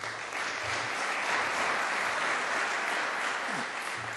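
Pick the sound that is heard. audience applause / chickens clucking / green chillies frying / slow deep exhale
audience applause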